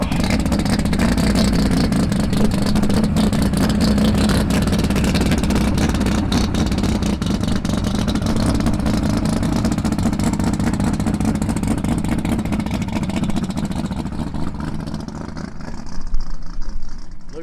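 A Chevrolet Nova race car engine roars loud and close as it revs and accelerates on the street, holding a dense sustained drone that eases slightly near the end.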